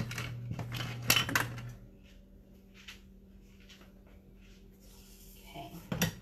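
A rubber spatula scraping banana muffin batter and flour off the bottom of a mixing bowl in a home kitchen. Clattering bowl knocks at the start are followed by soft, intermittent scraping strokes, with a steady hum behind and a sharp clack at the end.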